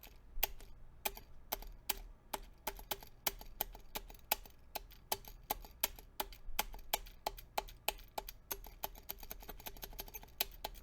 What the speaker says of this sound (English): It sounds super rattly and it doesn't feel right when you're tapping on either of the ends.